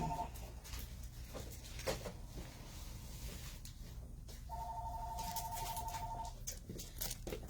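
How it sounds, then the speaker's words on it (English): A telephone rings in two electronic bursts, a short one at the start and a longer trill a few seconds later, heard over steady room noise in an indoor setting. "The director is here to answer the phone"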